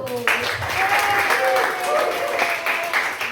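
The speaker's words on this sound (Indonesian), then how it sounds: "kita kasih tepuk tangan sekali lagi yuk" Audience applause at a church Christmas event, a burst of clapping that starts abruptly and carries on steadily and close, with a voice speaking over it.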